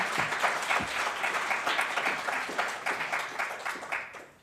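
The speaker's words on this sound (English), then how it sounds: "I'd like to invite you all to give our panelists a quick round of applause to welcome them here." A panel-discussion audience applauds to welcome the panelists, a steady dense round of clapping from a crowd filling the room, holding even throughout before tapering off at the end.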